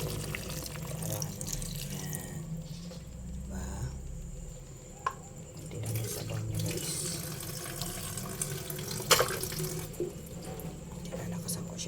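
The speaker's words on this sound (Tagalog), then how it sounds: "Lalagyan natin siya ng konting tubig." Water poured into a pot of paksiw, vinegar-based stew, a soft running splash and trickle under quiet kitchen background, with a faint clink and a person's voice nearby.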